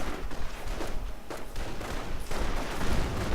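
Mortar and small-arms gunfire from a real-time strategy video game battle, with a dense, rapid series of muffled bursts and thumps crowding one another at moderate loudness.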